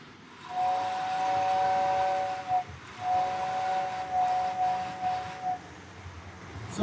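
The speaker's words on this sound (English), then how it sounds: "Let's hear that whistle, George." A steady two-tone model train whistle blows for several seconds, briefly breaks, then sounds again before fading, with faint hiss underneath.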